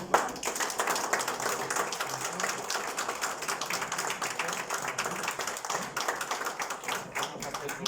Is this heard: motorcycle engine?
no